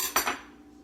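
Cutlery scrapes and clinks against a plate while cutting into a slice of dairy-free French toast, a couple of sharp close strikes followed by a fading ring, with no talking.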